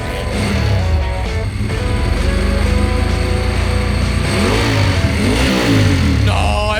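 An old, once-rusted motorcycle engine runs loudly and revs up and down at a motorcycle rally in Sassari, its tone rising and falling in surges with a rough, rattly edge.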